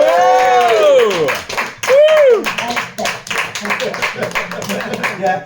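Clapping from the audience at a Rugby Fest awards ceremony as a winner is honoured, a brisk patter of hands mixed with cheering, whoops and a few excited voices, moderately loud throughout.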